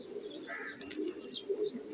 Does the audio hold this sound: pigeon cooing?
yes